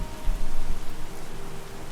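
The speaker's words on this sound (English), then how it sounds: "the rain is absolutely hammering it down" Heavy rain pouring outside a church, a dense, continuous hiss and patter of rain on surfaces, loud and close, with no one talking.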